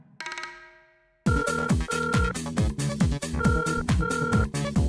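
A loud musical phone ringtone plays a repeating, rhythmic melody right after a brief chime, continuing steadily without any talking.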